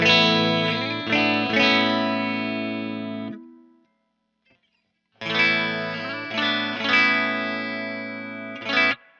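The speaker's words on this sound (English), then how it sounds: "one of your tones here for taking the guitar in and out of phase" Distorted electric guitar chords from a Gibson Les Paul Supreme with out-of-phase pickups ring out with a thin, nasal tone, a short silence, then another strummed phrase sustained with effects.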